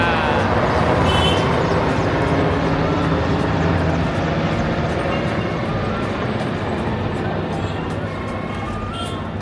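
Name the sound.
army helicopter flying overhead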